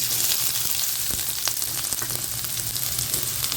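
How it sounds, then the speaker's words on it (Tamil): Onions frying in hot oil for a Tamil capsicum and egg poriyal, a steady close sizzle with occasional crackles and stirring scrapes, no talking. "எண்ணெய் ஊற்றிக்கலாம் வெங்காயம் போட்டுடலாம்"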